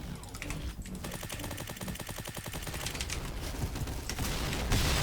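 Rapid bursts of Honey Badger automatic rifle fire in a video game, a fast rattling stream of shots rolling on steadily, close and loud, with no talking.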